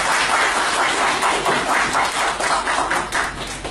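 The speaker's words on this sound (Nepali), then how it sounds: "कृपया हामी सबैजना ताली बजाएर यहाँ" An audience claps steadily and densely at a community gathering at Gorkha Bhawan, with a continuous loud patter of many hands and slight rhythmic swells that ease off toward the end.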